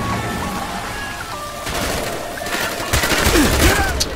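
Rapid bursts of gunfire in Call of Duty: Black Ops on Veteran difficulty, a dense fusillade that builds toward the end with electronic game tones and beeps mixed in.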